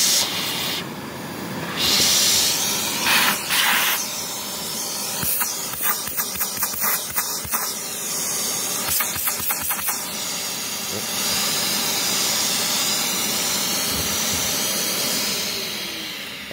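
A Dirt Devil Endura Max UD70175 vacuum cleaner with a clogged hose runs with a harsh, steady hiss of strained airflow, broken by a burst of rapid clicks and rattles from debris partway through.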